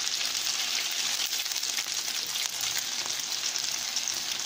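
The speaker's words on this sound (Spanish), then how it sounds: "Vamos a dejar que se frían muy bien. Estas tortitas." Oat and tuna patties frying in oil in a pan, a steady close crackling sizzle that holds at an even loudness without pause.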